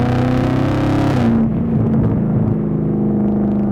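Supercharged LT4 V8 in a Camaro ZL1 1LE on a canyon run, loud exhaust droning steadily throughout, its engine note dropping as the high end falls away after about a second and a half, close and continuous.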